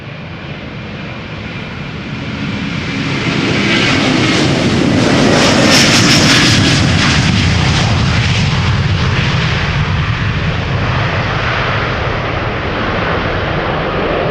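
A passenger airliner taxiing at Amsterdam Schiphol Airport gives off a steady, loud jet-engine roar that swells over the first few seconds and then holds as a broad, continuous whine and rumble, with no voices.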